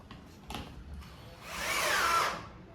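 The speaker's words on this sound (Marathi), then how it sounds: "ड्रिलिंगचं काम चालू झालं असं" A power drill whirs through a single short burst of drilling, rising and fading, during work on a home Ganesh decoration, following a few faint knocks.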